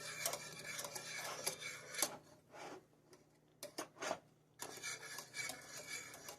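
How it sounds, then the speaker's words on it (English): A spoon stirs black pepper and ground turmeric in a pot for baked mac and cheese, making quiet rasping, scraping strokes in short bursts separated by brief pauses. "So just giving it a stir."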